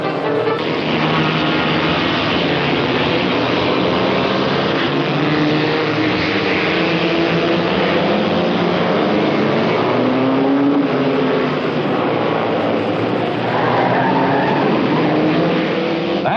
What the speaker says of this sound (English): And flashing through the start-finish line, the stopwatches gave him only a split-second lead as Day hung on like he was glued in position